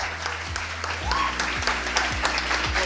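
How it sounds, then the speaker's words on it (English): A crowd of young people claps during a lively street meet-up with KTR. The applause is steady and fairly close, with sharp individual claps over a general patter and a few voices mixed in. "Guys, claps."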